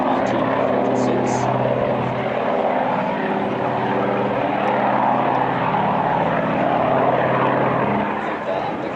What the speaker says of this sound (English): The DC-6 was developed after the war, first flew February 1946.